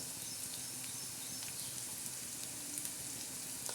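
Onion fries in oil in a pan until reddish, a faint, even crackling sizzle that carries on steadily without breaks, quiet and without voices.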